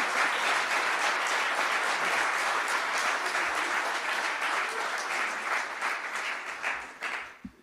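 Sustained, loud applause from an audience welcoming Air Force Secretary Frank Kendall at a defense leaders' research center announcement, dense clapping holding steady for several seconds before tapering off at the end.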